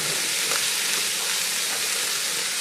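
Chopped cabbage hits a hot pot for cabbage roll soup, giving a steady, loud broadband sizzle and hiss that holds evenly throughout with no talking.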